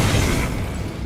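A fire spell cast in Hogwarts Legacy, a short, dense whooshing burst with a low boom, loud and close, fading slightly over about a second.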